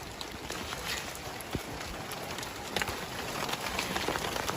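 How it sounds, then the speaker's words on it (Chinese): Rain pours down over a corn field during harvest, a steady, fairly faint outdoor hiss scattered with brief taps of individual drops, with no voices over it. "我們來摘就下雨了。"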